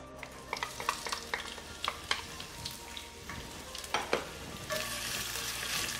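White onions sauté in hot oil in a pan, with a steady close sizzle broken by repeated scraping stirs of a utensil, and the frying growing louder near the end.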